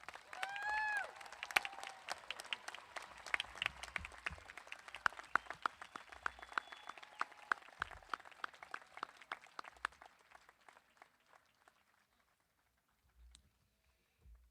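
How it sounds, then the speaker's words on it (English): Graduates of the class of 2020 receive a round of clapping at a college commencement ceremony, a dense patter of many hands that fades out after about ten seconds to near silence. "Please join me in offering a round of applause for all graduates in the class of"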